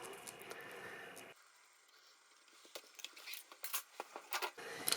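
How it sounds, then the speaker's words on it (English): Scissors rough-cutting around an in-the-hoop embroidered heart pencil topper, a run of close, crisp snips and rustles building in the second half after a quieter pause. "I'm going to rough cut it out first just to make it easier for me"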